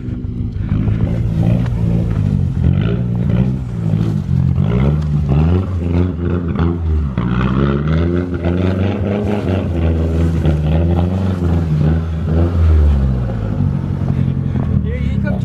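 A front-wheel-drive car's engine revs and roars in rising and falling surges while it drifts in snow, loud and close, with people talking over it throughout.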